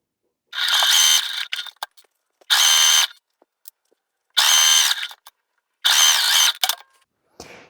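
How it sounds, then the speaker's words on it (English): A sewing machine stitches the two short sides and one long side of a fabric cubic makeup and travel bag, running in four loud bursts of about a second each, separated by short pauses and small clicks. "And then sew the 2 short and 1 long side."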